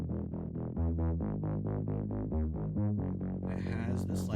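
A wobble bass synth patch built in Serum plays alone as a steady run of about thirteen rhythmic pulses with thick harmonics, loud and close, ending in a brighter, noisier burst.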